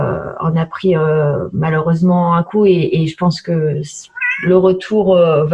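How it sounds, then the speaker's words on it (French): A pet house cat meows a few times in a home, short mewing calls slipping between and under steady French conversational speech. "c'est mon chat, excusez"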